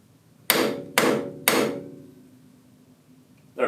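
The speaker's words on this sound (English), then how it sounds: "I'm gonna use a machinist hammer, which has sides that are softer than aluminum, and I'm gonna give it a few taps" Three sharp, close taps of a machinist hammer on an aluminum workpiece seated in a milling machine vise on an Optimum BF 30 Vario vertical mill, evenly spaced about half a second apart, each ringing briefly, then a fourth blow begins.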